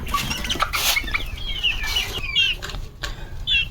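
Desi roosters and hens cluck in a farm yard, a steady stream of short calls near and far with a few sharper squawks over a noisy background.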